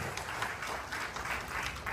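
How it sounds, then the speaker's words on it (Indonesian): A church congregation applauds, a dense, even wash of many hands clapping that holds steady at moderate volume throughout. "Beri tepuk tangan yang meriah bagi Allah."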